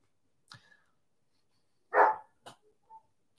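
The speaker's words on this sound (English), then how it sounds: "Dog singing we're going to have now." A dog barks and yips in short separate bursts, one loud bark in the middle and several fainter yelps around it, with silence between them.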